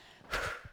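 A single sharp inhale, brief and fairly faint, taken as the shoulders lift and release during a relaxing qigong routine.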